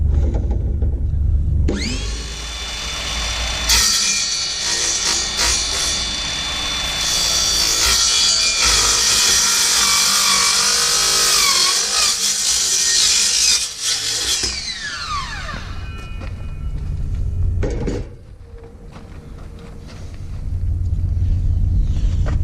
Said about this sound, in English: I've got my Makita cordless carbide saw